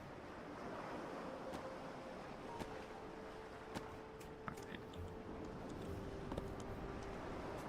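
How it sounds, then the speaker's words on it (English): A steady roar of wind and rain-like storm noise in the video game Forgotten Seas fills the scene continuously, with occasional faint clicks and a low distant tone. "It was the sound of a storm."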